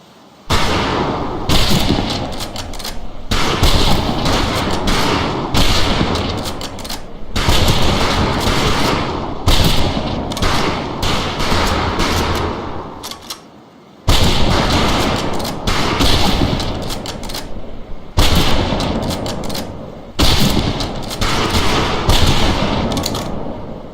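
Rifles fire at shooting targets on a range in rapid, loud volleys of overlapping cracks that come in several bursts, with short pauses where the shooting stops.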